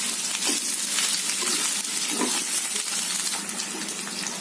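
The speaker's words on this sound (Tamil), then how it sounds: "முருங்கை எண்ணெயில் கொஞ்ச நேரம் வேகட்டுலாம் நல்லா வதங்கிட்டு" Oil sizzles and crackles steadily in a pan of frying drumstick vegetables, a dense, close frying hiss with occasional soft pops throughout.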